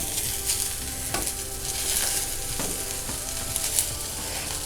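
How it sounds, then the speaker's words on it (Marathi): Chopped onion frying in a hot kadai (Indian wok) for a Malvani masala paste, a steady close sizzle with repeated scraping stirs of a spoon against the metal, no talking. "आता कढई गरमच आहे ना त्या कढईमध्ये मी आधी पहिल्यांदा कांदा टाकते"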